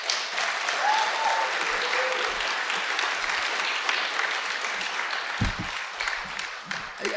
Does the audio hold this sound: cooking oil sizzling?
no